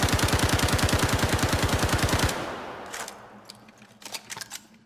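P4AR rifle in Star Citizen firing a rapid, evenly spaced burst with loud mechanical cycling for about two seconds, followed by a quieter tail of clicks and rattles.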